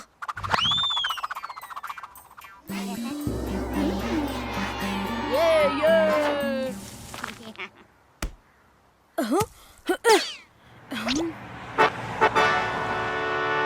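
Car arriving with short horn toots among croaking frogs and cartoonish sound effects, the vehicle sounds loud and near, broken by pauses, with voices talking in between.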